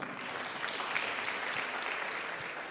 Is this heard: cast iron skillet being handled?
no